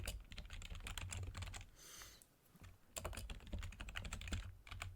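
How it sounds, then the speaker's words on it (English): Steady, fast clicking of keys on a computer keyboard, close and fairly faint, with a brief pause midway before the typing resumes. "I hear typing."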